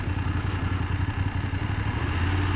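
A BMW F750GS motorcycle engine chugs steadily at close range, a low, rough, continuous rumble with a slight clatter, running alone without talk.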